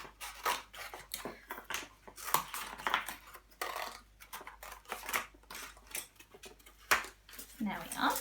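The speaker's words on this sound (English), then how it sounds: "I used some of my leftover egg box and I just cut" Scissors snip through leftover egg box cardboard in short, crisp crunching cuts, irregularly spaced and close by, while a person talks over the cutting.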